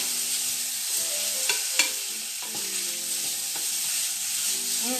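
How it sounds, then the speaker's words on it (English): Diced chouriço sausage sizzles loudly in olive oil, a dense close crackle with a few clinks of stirring and soft tonal hum beneath, no speech. "Now I'm going to add the chopped up salami, or chourico in Portuguese"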